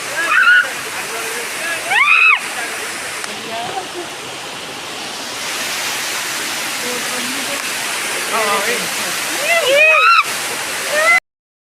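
Brahmeshwar waterfall, set among green hills, roars as a steady broad wash of falling water throughout, with voices and a few brief calls heard over it.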